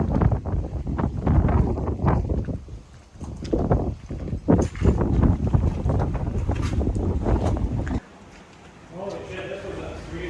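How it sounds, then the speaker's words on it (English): Strong gusts buffet the microphone in a heavy rumbling roar while people talk nearby at a hot beach, then the wind briefly drops before picking up again. "It is really windy right now."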